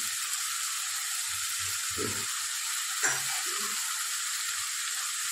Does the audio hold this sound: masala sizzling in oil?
yes